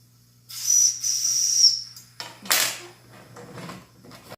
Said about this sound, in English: Oh, the whistle's working on now.